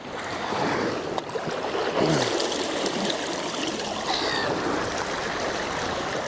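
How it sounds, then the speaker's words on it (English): Salt water washes steadily over freshly caught fish laid on a flat rock at the shore, a continuous close splashing and rushing with no speech. "Just let the water go over them. Just nice, fresh, clean salt water."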